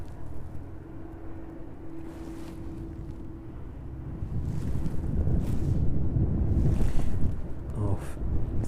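Ryanair jet taking off from East Midlands in strong wind, a low rumbling engine roar building steadily louder toward the end beneath gusty wind buffeting the microphone.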